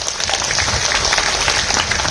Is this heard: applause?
yes